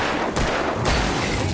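Loud gunshots ring out in the Alan Wake video game, two sharp blasts about half a second apart over a dense, noisy game soundscape.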